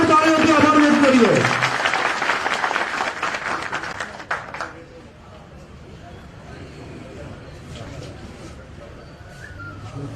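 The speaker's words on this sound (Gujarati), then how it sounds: "એક જોરદાર તાળીઓથી આભાર વ્યક્ત કરીએ।" Crowd applause at a Gujarat political rally, loud and dense at first, then fading after about four seconds into a quieter murmur of the crowd.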